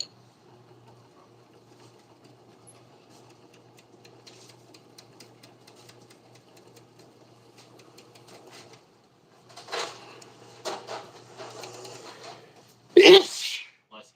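A single sharp, loud sneeze bursts out near the end, following a long stretch of quiet machine hum and brief talk while fishing line is spooled for orders.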